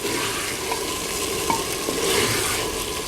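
Chicken and potato pieces frying in a handi pot for an aloo chicken shorba give a steady, close broadband sizzle with scraping stirs throughout, occasional clinks, no voices.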